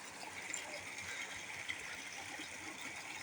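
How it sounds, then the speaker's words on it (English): A small creek swollen after two days of rain flows with a soft, continuous trickling and babbling, faint and steady with no talk. "It's a cute little, nice little creek."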